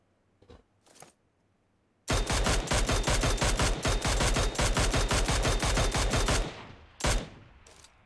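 Rapid automatic fire from a DMR rifle in PUBG Mobile, a loud dense burst of evenly spaced shots lasting about four seconds, then a single shot after a short pause, close and with no voices.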